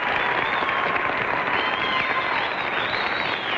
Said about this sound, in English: So let's give Bern a hand, shall we?